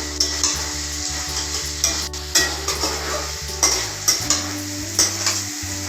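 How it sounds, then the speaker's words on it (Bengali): Chopped tomato and ginger paste fry in a pan for Bengali-style ghugni, with a loud rhythmic series of spatula scrapes and knocks over a continuous sizzle, close up and without voices. "এটা ততক্ষণ ভাজবো যতক্ষণ না হালকা সফট হচ্ছে। এরপর দিয়ে দেব আদা বাটা। ভালোভাবে মিক্স করে নেব।"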